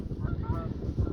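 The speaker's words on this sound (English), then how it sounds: "geese flying over." Geese honking as they fly over an allotment, a steady run of nasal calls overhead lasting about a second over low outdoor rumble.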